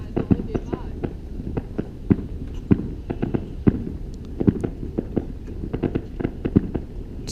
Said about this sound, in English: There's been a bunch of fireworks going off.